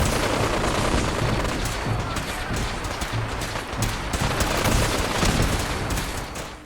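Dense, continuous gunfire from the Fallout 4 video game: loud bursts of automatic and rapid weapon fire overlap steadily for the whole stretch, with no voices over it.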